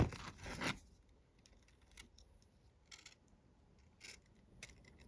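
Cutters snipping off wire ends while making earrings, a rustling burst at the start followed by several short, crisp close snips spaced apart in a quiet room.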